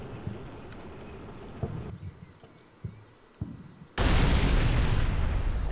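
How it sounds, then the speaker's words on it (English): A tank's active protection system fires to intercept an incoming ATGM in a video game: several sharp pops and thuds over a low rumble, then a sudden loud sustained roaring blast that fills the rest of the moment. "Active protection system prematurely disabled the ATGM before, or the missile before it hit the tank."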